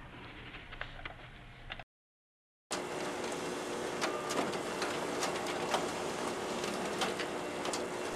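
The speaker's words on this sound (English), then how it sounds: "a black and white duplex printer to print the body of the book called the book block" Black and white duplex printer printing a book block, a steady whirring mechanical drone with rapid ticking, briefly cutting out for a moment before resuming at a constant level.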